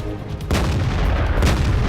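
Tank cannon fire in a competitive multiplayer tank video game match, a loud sudden blast followed by a sustained rumbling roar of battle noise, with no clear talk over it.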